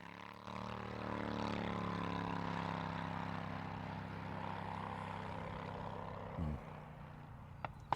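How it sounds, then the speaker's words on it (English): A motorcycle engine drones steadily as it passes, with a sustained tonal hum and harmonics at moderate distance, ending in a brief rougher burst near the close; no speech over it. "Motorcycle."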